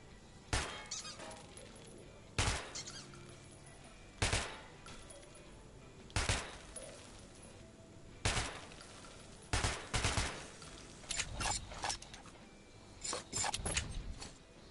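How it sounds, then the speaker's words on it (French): Gunshots at a shooting range in Metro 2033 Redux, fired singly at a steady pace of roughly two-second intervals, sharp and loud, then quicker bursts near the end, with no talk. "N'hésite pas à essayer ton arme sur mon champ de tir."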